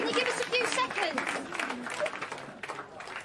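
A pub audience gives a round of applause that carries under clear talking voices, the clapping steady at first and then thinning out.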